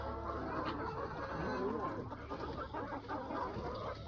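Chickens cluck softly and continuously at a low level, with faint background noise and no clear talking.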